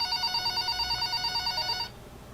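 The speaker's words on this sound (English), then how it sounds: "the phone on the counter rang" A telephone sitting on a counter rings with a steady, bright electronic tone that repeats for about two seconds, then cuts off abruptly, leaving only a low room hum.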